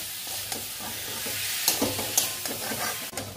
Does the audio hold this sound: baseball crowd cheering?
no